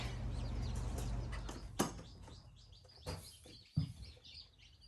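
Newly hatched Cochin bantam chicks chirp on a farm on hatch day, a few brief high peeps scattered over a steady low background hum, fairly faint and close.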